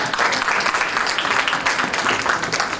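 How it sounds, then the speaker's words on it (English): A hall audience at a primary schools' public speaking competition gives a round of applause for a girl who has just finished her speech, dense, loud and sustained clapping from many hands filling the whole stretch. "Give her a round of applause."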